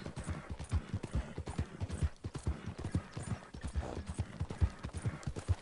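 Horse hooves clip-clopping in Red Dead Redemption II as the horse Buell walks, a steady, close rhythmic patter of distinct hoof strikes continuing throughout.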